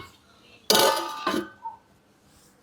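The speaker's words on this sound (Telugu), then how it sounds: "మూత పెట్టేసుకుందాం" Metal lid set onto a pot of vegetable biryani, two sharp clanks in quick succession followed by a faint rattle, with soft speech around it.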